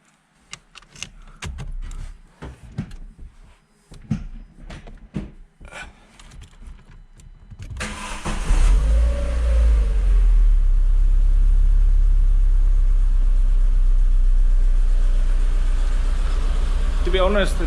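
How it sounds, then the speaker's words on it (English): A Renault Clio RS 197, just after a DIY fuel injector cleaning, cranks and starts, then settles into a steady low idle rumble, with keys jangling and faint handling noises before the engine fires. "let's do a startup and hear if it sounds any different"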